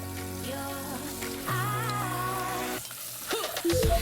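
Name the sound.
potatoes and garlic frying in olive oil and butter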